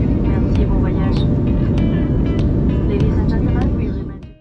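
Steady roaring cabin drone inside an Aircalin narrow-body airliner climbing out after takeoff, loud and continuous, with a voice speaking over the engine noise.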